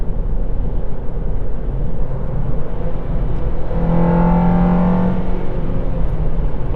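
Car engine intake sound heard from inside the car while driving in traffic, a steady loud broadband rumble with a brief rising drone in the middle as the engine pulls, no talking.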